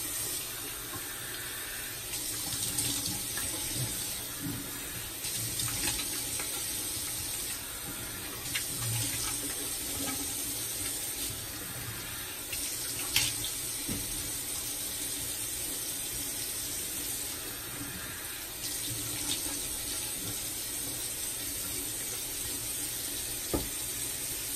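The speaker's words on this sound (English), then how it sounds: "let me rinse this off." Tap water runs steadily into a bathroom sink while a shaving brush is rinsed, a constant close hiss and splash with small shifts in the flow, no talk.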